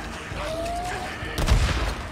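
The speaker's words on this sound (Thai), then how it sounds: "โอ้โหระเบิดระเบ้อ" An explosion in the video game Days Gone lands as a deep, heavy boom after a stretch of steady background game noise, and it rumbles briefly before fading.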